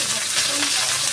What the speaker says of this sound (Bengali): সিমগুলো ভালো করে ভেজে নেবো।